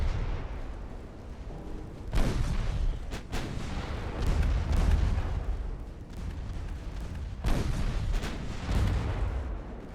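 Heavy naval gunfire from warships in the naval battle game Ultimate Admiral Dreadnoughts, with several deep booming salvos spaced a few seconds apart over a rumbling background.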